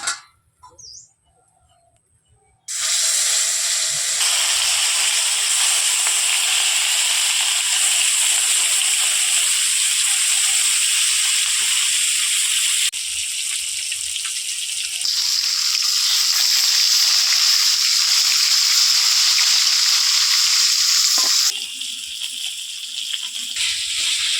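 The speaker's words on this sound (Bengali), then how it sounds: "এবার মাছগুলো ভাজবো কড়াতে দিচ্ছি তেল এবার মাছগুলো ভেজে নেবো" Rohu fish frying in hot oil in a wok, a loud, dense crackling sizzle that starts abruptly after a quiet moment and continues steadily, shifting in intensity as pieces move, with no talking.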